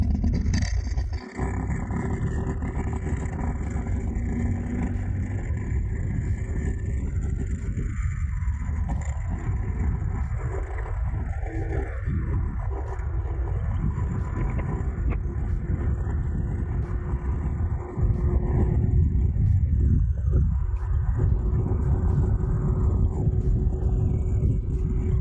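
An Angwatt CS1 electric scooter runs at top speed setting 5, around 45 to 50 km/h, with a steady loud rumble of motor and wind noise rushing past throughout, a brief dip near the start and a bump partway through.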